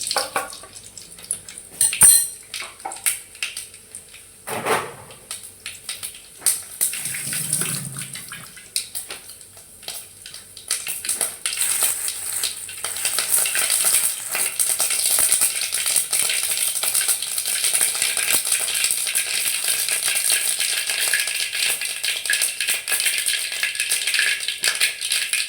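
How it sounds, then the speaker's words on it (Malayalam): Mustard seeds splutter and pop in hot oil as a traditional yam curry is started. A few pan and utensil clatters come first, then a dense, steady crackle builds and carries on loudly to the end. "കടുക് പൊട്ടിക്കഴിയുമ്പോൾ"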